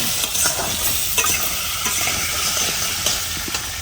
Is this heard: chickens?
no